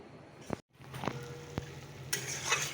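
Dried fish cooks with bottle gourd in a pan, a soft sizzle broken by a few sharp stirring scrapes and knocks from a utensil, then a brighter hiss rising toward the end, close and fairly quiet.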